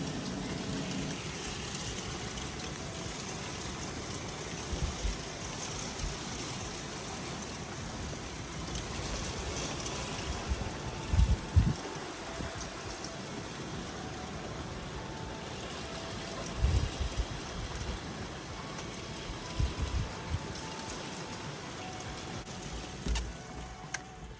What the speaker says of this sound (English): as you can see, it is absolutely chucking it down